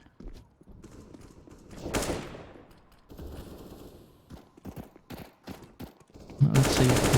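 Pistol shots from a Counter-Strike esports match pop in scattered bursts, fairly close, with a heavier volley near the end, mixed with in-game movement noise.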